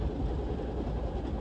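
Southern Pacific passenger train rounding the horseshoe curve near San Luis Obispo, a steady low rolling rumble of wheels on rail heard from on board, constant and unbroken with no talk.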